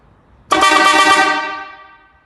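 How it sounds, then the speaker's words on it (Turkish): One loud, sustained, buzzy snail-type car horn blast sounds up close, holding steady before fading out over about two seconds. "aracımızın salyangoz çaçat kornası"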